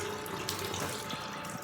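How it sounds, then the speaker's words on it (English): Water runs from a sink tap and splashes into the basin while it is poured over a face, a steady close rush with small irregular splashes, and no voices. "pour water over your face,"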